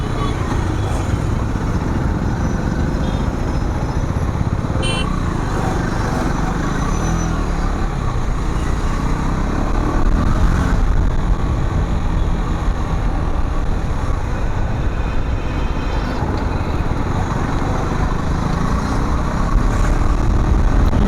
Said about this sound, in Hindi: बहुत ट्रैफिक है यार यहाँ पे।